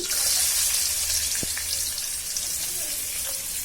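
Chopped onions frying in hot oil in a pan give off a loud, steady, close hiss, with one brief knock early on.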